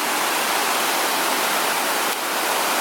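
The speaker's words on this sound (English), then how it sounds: "Look at this waterfall." A large waterfall at a steep drop-off along a coastal ATV trail, a loud, continuous broadband roar of rushing water with no voices.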